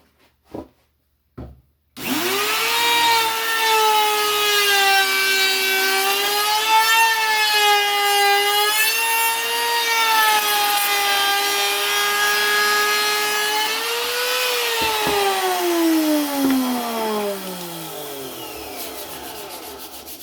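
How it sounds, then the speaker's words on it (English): A router cutting a wooden part for a shaving horse, a loud steady close motor whine that spins up after two brief knocks, holds for about thirteen seconds, then winds down in pitch, with no voices. "So I'm just going to go ahead and route this quick."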